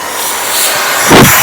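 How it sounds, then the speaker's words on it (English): An Orfeld cordless vacuum cleaner runs with a steady, close whirring whine while vacuuming a stairway, swelling briefly louder near the end. "With one hand, I am vacuuming my stairway while I'm recording this video."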